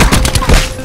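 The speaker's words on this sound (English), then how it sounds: "Hey, warning shot." Gunfire in Black Ops 4: a loud, close burst of several rapid shots fired in quick succession, with no talking over it.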